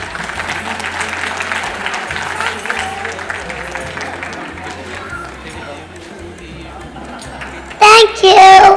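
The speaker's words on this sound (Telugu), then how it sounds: "ఒక్కసారి మన ముద్దు కృష్ణుడి కోసం చప్పట్లు ప్లీజ్" Audience applause at a stage performance during a Makar Sankranti 2025 event: a steady wash of clapping and crowd noise that thins midway, then swells into a louder burst near the end.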